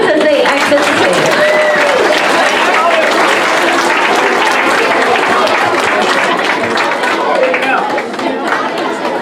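A school awards ceremony audience applauds as 5th grade nominees leave the stage, producing loud continuous clapping mixed with lively crowd chatter and voices that hold steady to the end.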